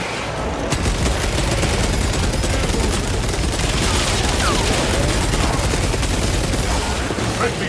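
Someone fires a Melta weapon in Warhammer 40K Space Marine 2, producing a continuous loud roar of rapid blasts and impacts that carries on for several seconds amid heavy combat noise.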